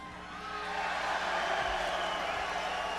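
A live fight-night crowd roars and cheers for a fighter, the noise swelling over the first second into a loud, sustained wash of voices and whoops.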